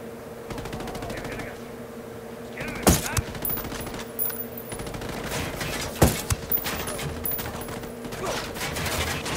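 Gunfire aimed at a tank in the video game Ghost Recon Wildlands, with a couple of loud, sharp shots standing out over a busy background of scattered crackles and game ambience.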